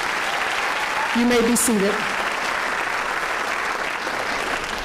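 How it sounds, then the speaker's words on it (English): Audience applause at a high school graduation ceremony, steady broad clapping from a large crowd, heard while someone briefly speaks over it. "Let's have a round of applause for our Misawa returnees."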